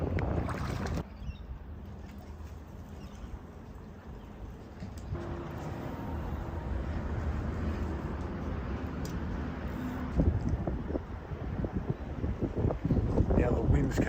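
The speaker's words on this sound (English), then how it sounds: "Now the wind's coming head on again today." Steady wind roars across an empty fishing boat out on open water, a constant broadband rush that swells louder toward the end, with engine drone and water noise underneath.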